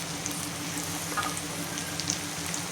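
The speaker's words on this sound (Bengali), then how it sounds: "গোটা গোটা রসুন এই যে এতে দিচ্ছি" Whole garlic cloves drop into hot oil in a frying pan for spinach paneer, giving a steady close sizzle with faint crackles and pops throughout.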